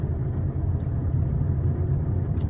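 A car engine hums low and steady from inside the vehicle while driving home, a continuous rumble with no talking.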